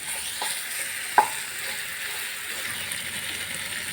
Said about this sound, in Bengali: আর ভেজে নেব।